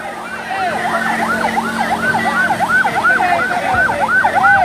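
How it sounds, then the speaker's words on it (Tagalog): An ambulance siren wails in a steady, rapid up-and-down pattern, loud and near, as it passes through a crowd, with a low vehicle rumble underneath. "Tabi po muna tayo, may ambulansya."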